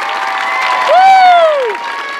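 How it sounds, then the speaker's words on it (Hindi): Schoolchildren at a government school in Koth Kalan clap loudly for their teachers, a steady wash of crowd applause with a rising tone sweeping across the middle. "सारे सरों के लिए तालियां बजा दो जोर से।"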